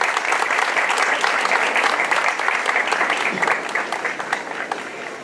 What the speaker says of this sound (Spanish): El pueblo de Colca le pide un caluroso aplauso.